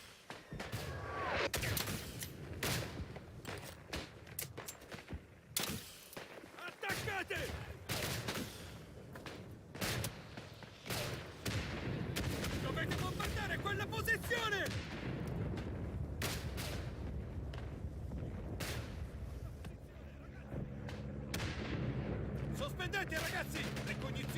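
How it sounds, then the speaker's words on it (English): Heavy battlefield noise in the World War I shooter Isonzo: repeated booming artillery blasts and scattered gunfire rolling through a long, dense stretch, with voices talking over the rumble. "L'artiglieria sta sparando."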